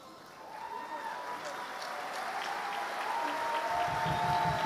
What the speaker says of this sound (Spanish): ¿quieren pararse un minuto así le damos un aplauso?